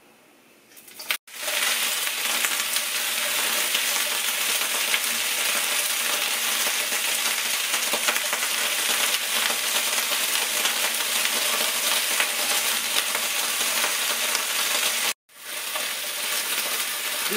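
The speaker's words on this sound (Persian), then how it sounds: "تفتش هم به یه شکلی باید بدین که بامیه ها باز نشه و بذاریمش کنار" Okra frying in a pan for a Persian okra stew, a loud, dense, unbroken sizzle held close for over a dozen seconds, with a brief break near the start and another near the end.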